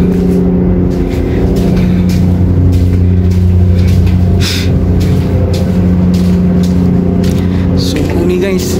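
A large Komatsu dump truck idles nearby with a loud, steady low diesel rumble and a droning hum that never lets up, plus light clatter and faint background noise.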